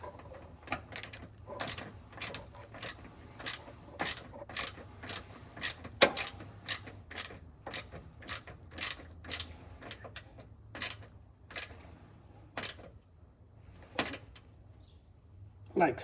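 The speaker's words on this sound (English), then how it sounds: "we insert this ground wire and then just simply tighten it" A ratcheting tool clicks in a rapid, repeated rhythm as a ground wire connection is tightened during a Tesla Model Y power frunk installation, with short pauses between runs of clicks.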